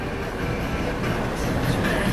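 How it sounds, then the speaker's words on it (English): A train rolling past a level crossing in Linden, a steady, loud broadband rumble and rattle of railcars continuing throughout without pause. "waiting for the train to go by"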